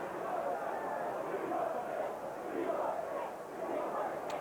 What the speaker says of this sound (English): They're chanting for "We want 6."